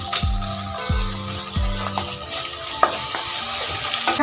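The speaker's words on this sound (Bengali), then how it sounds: "দেখুন মশলাটা ভাজা ভাজা করে নিয়েছি, টমেটোটাও সফট হয়ে গেছে।" Chopped tomato cooks with ginger-garlic paste and salt into a masala base for a jackfruit biryani, a steady sizzle in a pan with a few sharp spoon knocks and light stirring.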